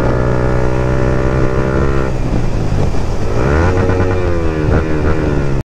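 A Yamaha MT-15 V2 motorcycle with a loud aftermarket exhaust roars close and loud, holding a steady raspy drone before revving up and down in rising and falling sweeps, with no voices over it.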